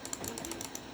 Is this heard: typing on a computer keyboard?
yes